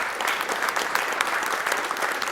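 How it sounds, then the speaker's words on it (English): An audience at a speedrun event gives a round of applause for arcade players, a continuous crackle of many hands clapping at a steady moderate level without speech. "Another round of applause for all our arcade players."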